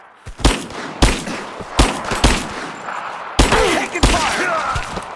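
Gunfire in Rise of the Tomb Raider: loud, close bursts of shots crack out at irregular intervals, with a dense volley of rapid fire near the end over a rumbling battle backdrop.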